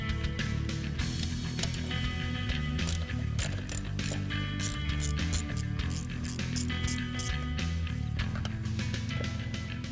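Hand ratchet loosening intake manifold bolts on a 2011-2014 Mustang GT, a fast steady clicking of the pawl close up, running continuously with short pauses between strokes.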